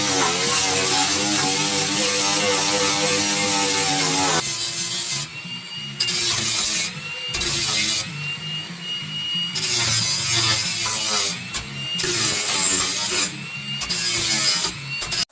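An angle grinder disc scrapes rust from the floor of a 1991 Dodge Grand Caravan SE van, loud and harsh in long bursts separated by brief pauses and short stops.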